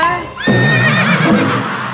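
A horse gives a loud, close neigh, a wavering whinny that rises and falls over about a second and a half after a brief lead-in sound.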